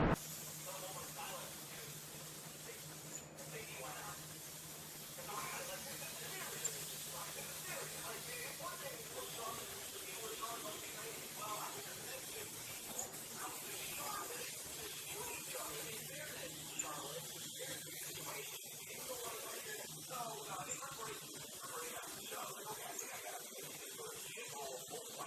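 A spray gun lays paint across the underside of a car hood on a Toyota AE86 project car, making a steady soft hiss of air and paint mist over a long stretch with faint background noise.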